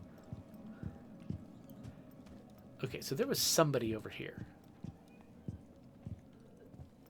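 Footsteps in the video game Rainbow Six Extraction thud at a steady pace, fairly faint, while a person talks briefly over them in the middle.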